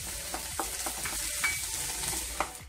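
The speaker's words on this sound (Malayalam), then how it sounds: "ശരിക്കും മൂക്കുന്നത് വരെ നമുക്ക് ഇളക്കാം." Ginger garlic paste frying in a pan, being stirred with intermittent light scrapes over a quiet, steady sizzle.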